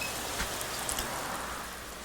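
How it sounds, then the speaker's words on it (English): A rain downpour falls in the video game Norco, a steady wash of hiss and patter that holds evenly throughout, with no voices. "The downpour finds its way to the drainage canal"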